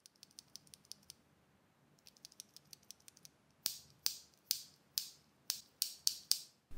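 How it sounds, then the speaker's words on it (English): Keyboard clicks from a Yunzii AL66 with Yunzii Milk linear switches: a run of soft, quick keystrokes followed by louder, sharper strikes spaced about half a second apart, close up with no talking. "These switches are Yunzii's milk linear switches. This is how it sounds like."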